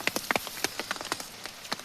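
Rain in a forest makes dense, irregular patter and drips on leaves and wood, close and steady with sharper individual drops standing out.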